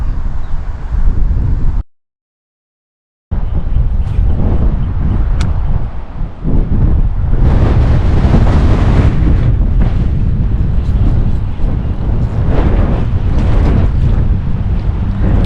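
Strong wind buffets the microphone outdoors during urban bass fishing from a small water's edge, a loud continuous roar with a brief silent dropout near the start, then steady gusting to the end.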